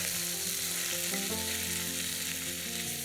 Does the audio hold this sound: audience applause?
no